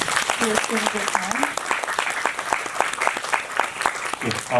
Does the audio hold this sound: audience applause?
yes